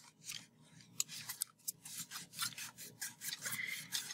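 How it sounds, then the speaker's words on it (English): Paper is creased and folded in half, giving a run of soft crisp rubbing and scraping rustles with sharp little crackles, close by and with no talk. "We're going to take our paper, we're going to fold it in half."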